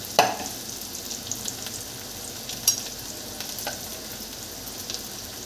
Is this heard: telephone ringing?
no